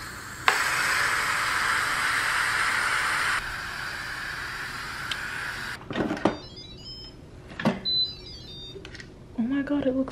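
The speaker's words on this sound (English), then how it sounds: "I'm gonna release the steam" A rice cooker vents steam in a home kitchen, a loud continuous hiss lasting about five seconds, followed by clicks, clatter and quieter handling sounds.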